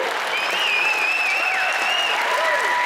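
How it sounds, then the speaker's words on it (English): An audience claps loudly and continuously for Steve Bullock at a Montana Democratic dinner, a dense roar of applause holding steady over the whole stretch, with a few whistles rising above it. "Give him a round of applause, Steve Bullock"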